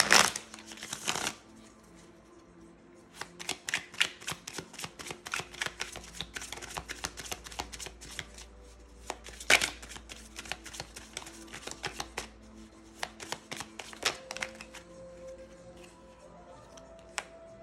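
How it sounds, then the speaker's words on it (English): Tarot cards being shuffled and pulled during a reading, a long run of crisp riffling card flicks and snaps in bursts, close and fairly quiet, with no talking. "Let's just pull a few more cards just to clarify this."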